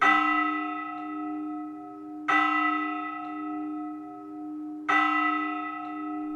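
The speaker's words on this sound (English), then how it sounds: "This bell is presumed to be the oldest in the region of Navarre." A medieval church bell cast in 1377 in a bell tower in Navarre strikes three times at even intervals, each loud metallic clang ringing out in a long humming decay, close up with no talk.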